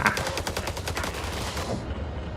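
Sustained rapid gunfire in The Dark Pictures: House of Ashes, a steady stream of close, loud automatic shots that stops abruptly near the end, leaving a brief quiet tail.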